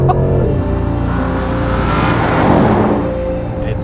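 A 2025 Porsche Panamera GTS V8 revs hard and shifts through gears, the engine note rising and dropping with each change, loud and close from inside the car.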